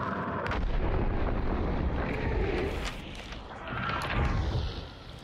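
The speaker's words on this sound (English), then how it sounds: "There are some explosions going on here." Continuous loud booming explosions and heavy gunfire in the video game Hunt: Showdown, a dense rumbling barrage with a swell near the end, no talk over it.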